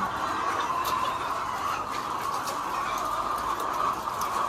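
Chickens clucking steadily throughout a poultry farm where eggs are harvested in San Jose, Batangas, a dense, continuous chorus of many birds with scattered sharper calls, moderately close, and no talking.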